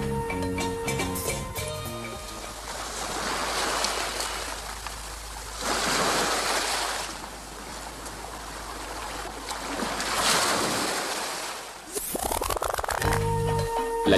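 Gentle sea waves wash onto a tropical shore in Mauritius with a soft, steady rolling surge and breeze, swelling in broad rhythmic pulses that stay close and fairly loud, with brief music at the start and end.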